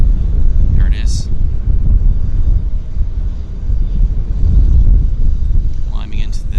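An Avro RJ airliner climbing out after takeoff at Vancouver airport, a loud sustained engine roar mixed with wind buffeting the microphone, with brief chirps near the start and end.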